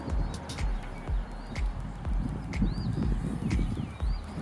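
Horses at a horse rescue, with hooves clip-clopping in a steady rhythm close by and birds cooing and chirping in the background.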